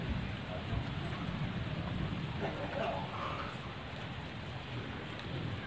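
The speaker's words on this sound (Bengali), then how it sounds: "বৃষ্টি পড়ছে, অল্প অল্প বৃষ্টি পড়ছে" Light rain falls steadily outdoors, a continuous soft hiss of drops that holds an even level from start to end with no clear breaks.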